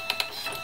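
Built-in thermal printer of a Hewlett Packard 97 calculator printing a line: a few quick, close mechanical ticks and a brief buzzing chatter, with no voices.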